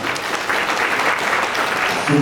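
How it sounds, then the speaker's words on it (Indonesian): Applause from a large audience at an Indonesian village-cooperative dialogue event in West Papua, steady and dense for a couple of seconds, with a voice starting up at the end. "kita tepuk tangan untuk kita semua"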